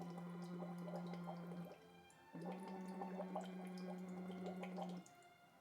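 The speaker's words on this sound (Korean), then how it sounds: "보글보글 이렇게 소리만 나고 물이 밖으로 튀지 않고" Gentle bubbling from blowing into a cup of water during a vocal therapy exercise, a soft steady bubbling under a held hummed tone, in two long phrases with a brief pause between them.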